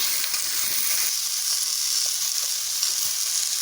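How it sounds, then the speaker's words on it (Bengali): Pointed gourd fries in a pan with a constant, dense hiss of sizzling oil up close, steady throughout with only faint stirring touches. "এটা একসঙ্গে দিয়ে ভেজে নেবো সুন্দর করে"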